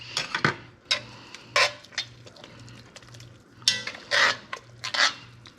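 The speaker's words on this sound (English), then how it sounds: "And then I like to stir in a little bit of yogurt." A spoon stirring yogurt into spicy Indian greens made with mustard, spinach and kale, heard as repeated scraping and clinking against the pot in irregular bursts over a steady low hum.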